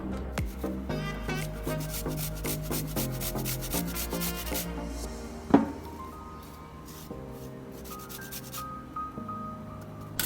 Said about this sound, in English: we're gonna be taking a knob of ginger and you're just gonna be grating that into the